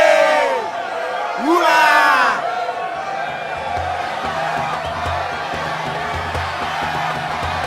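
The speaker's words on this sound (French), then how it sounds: "Jésus est acclamé par la foule." A crowd acclaims Jesus as he enters Jerusalem, with loud whooping cheers in two bursts that settle into a steady, excited murmur of many voices.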